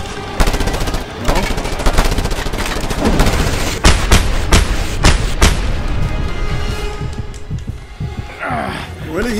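Sustained machine gun fire in the action game Just Cause 2, loud and close, with dense rapid bursts and heavy booms over a constant rumble of gameplay noise, and some talking mixed in.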